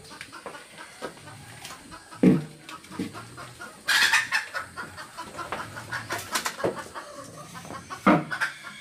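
Chickens cluck in scattered, uneven calls with a few louder squawks while being caught in an old forest. No one speaks.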